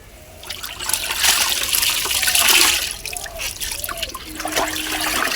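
Water drains away quickly outside on a cold morning, a trickling, splashing flow that swells and fades in uneven surges, fairly close and without speech.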